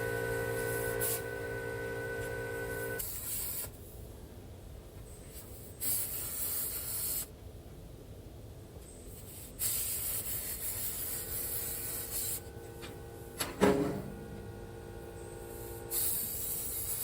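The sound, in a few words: welding with HTP ProPulse welder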